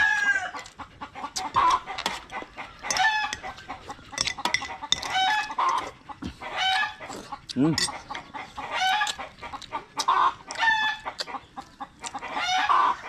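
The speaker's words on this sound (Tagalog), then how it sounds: "Nagpaparami ako din ng manok" Several native Bisaya chickens cluck in short, repeated bursts close by, and a rooster crows once partway through amid the busy farmyard chatter.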